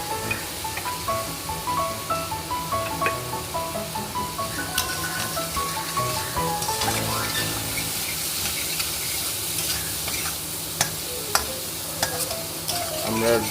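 Turmeric powder being stirred into katla fish curry frying in a pan, a steady sizzle with repeated scraping strokes of a spoon or spatula, close and continuous with no talking.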